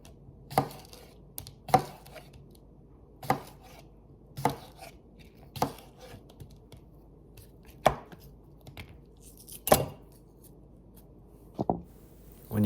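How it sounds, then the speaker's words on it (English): Knife chops cucumbers on a cutting board for a Greek salad, giving about ten sharp, evenly spaced thuds that stand close and alone with no talk. "When you're done slicing up your cucumbers"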